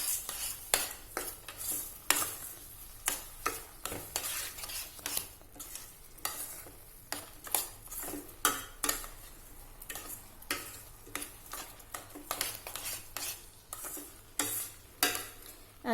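Apple filling for modak is stirred in a pan, with repeated scraping strokes of a spoon against the metal in an irregular rhythm over a soft background sizzle, close and without talk.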